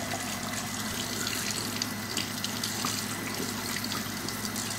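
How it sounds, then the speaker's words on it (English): Tap water runs steadily into a sink while someone rinses their mouth, a continuous close splashing flow with no speech. "Also rinsing my mouth."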